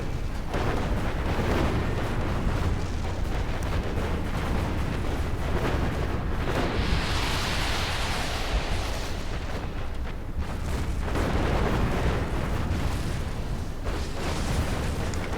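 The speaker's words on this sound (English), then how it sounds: "Peregrines are looking like they're firing only 1 missile at a time" Peregrine units fire missiles in the strategy game Stratera Balance Mod, producing a dense, loud, unbroken barrage of booms and explosions with a brighter rushing burst partway through.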